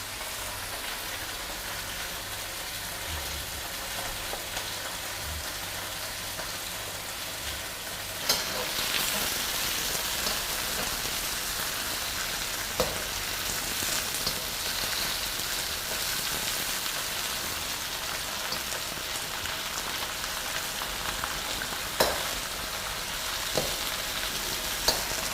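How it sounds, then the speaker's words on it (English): Vegetables stir-fry in a wok with a steady hiss of sizzling. The sizzle swells louder partway through, and a few sharp clanks and scrapes of stirring cut in here and there. "now that our veggies have had about 3 minutes in the wok"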